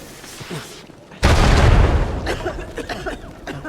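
In Uncharted 4: A Thief's End, an explosion bursts with a sudden heavy boom that decays into rumbling debris and crackles, with game voices before and after.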